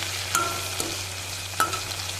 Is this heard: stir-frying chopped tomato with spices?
yes